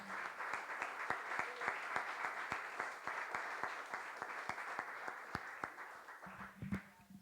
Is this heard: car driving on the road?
no